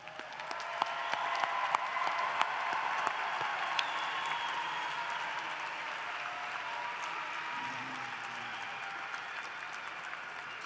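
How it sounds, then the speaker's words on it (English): Sustained applause from a commencement crowd honoring graduates at a December ceremony, an even wash of many clapping hands with a few sharper claps poking through, holding steady throughout. "Please join me in applause for the graduates."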